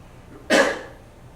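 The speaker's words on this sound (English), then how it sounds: "There's always coughing, sneezing, breathing." A single sharp cough or sneeze bursts out once, close and fairly loud, then fades, with quiet around it.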